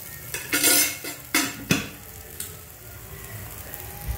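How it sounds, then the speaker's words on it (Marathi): Food fries in oil in a kitchen pan with a steady soft sizzle, punctuated near the start by a few loud clattering scrapes of a utensil against the pan before settling into quieter frying. "हे बघा कसं फ्राय होत।"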